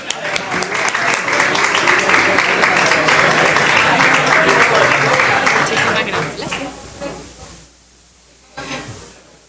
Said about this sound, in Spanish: Vamos a recibirla con un gran aplauso.